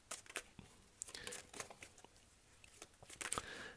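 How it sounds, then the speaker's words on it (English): Tarot cards being shuffled by hand, giving a run of soft papery riffles, taps and crinkly rustles in uneven bursts, close and quiet, with no talking. "while there's moments of silence while I may be shuffling the cards"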